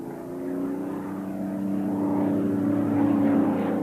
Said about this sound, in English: The aeroplane flies, and really that's the proof.